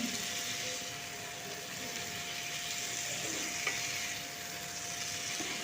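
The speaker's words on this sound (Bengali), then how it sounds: "এটাকে হালকা হাতে ভালো করে আমি মিশিয়ে নিচ্ছি" Cabbage is stirred and mixed in a frying pan, with a continuous close sizzle and soft scraping. A faint steady hum runs underneath, and there is no talking.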